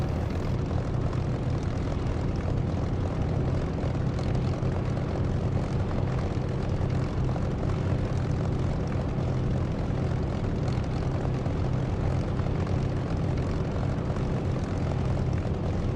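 Propeller aircraft engine barely ticking over near 1000 RPM in the DCS flight simulator, a steady low droning hum that holds constant and close throughout with no talking.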